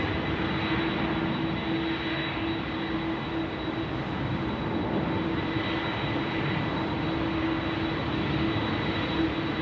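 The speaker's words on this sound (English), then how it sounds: "The One World A330 coming in to join us here on the apron." A Oneworld Airbus A330 jet arriving at Sydney Airport's wet apron, a steady broad engine roar with a faint whine, continuous and unbroken throughout.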